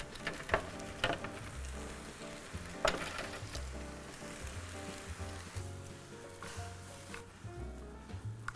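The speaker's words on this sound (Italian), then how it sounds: "Ora ci vado a mettere le zucchine." Zucchini fry in a pan with oil, garlic and basil, giving a steady close sizzle with occasional stirring clatter and scrapes, and no talking.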